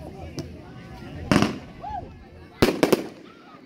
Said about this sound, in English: Meteor gun coming at you.